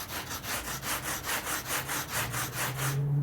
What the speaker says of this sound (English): So I will use my favorite tool, cheese grater.